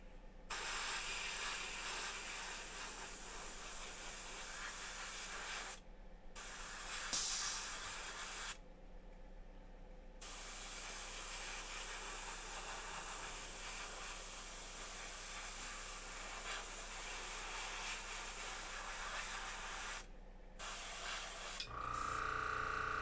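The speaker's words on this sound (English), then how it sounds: "Actually, might as well just spray the rest out." Steady spray paint aerosol hiss in long bursts with brief pauses between, close and fairly loud, as the rest of a spray can is emptied.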